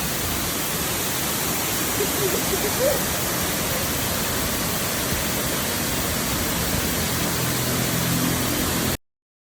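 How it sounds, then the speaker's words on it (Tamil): A hidden waterfall near Atlanta, Georgia gives a steady, close roar of falling water that stays constant throughout and cuts off abruptly at the end. "நம்ம இந்த மாதிரி கீழே இறங்கி வந்து பார்த்தா தான் இந்த மாதிரி ஒரு ஃபால்ஸ் இருக்குன்னு தெரியுது"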